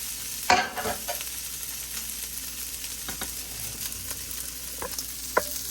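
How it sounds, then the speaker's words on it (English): Cold leftover rice being stir-fried with fish and broccoli in a skillet, a soft continuous sizzle with scattered scraping and clattering stirs, one louder knock near the start. "I think I put this on salad, so it's perfect stir fry rice now"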